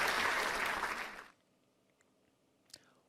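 Applause from the congregation at a children's church worship service: a dense burst of clapping that fades over about a second and a half, then near silence with a faint click.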